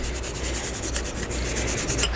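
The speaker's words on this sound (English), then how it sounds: "I'm gonna give them a clean with Scotch-Brite." Brake pads for the front of a Toyota Prius being scrubbed clean with a Scotch-Brite abrasive pad, giving a steady, close, continuous rubbing rasp with quick repeated strokes and no talking.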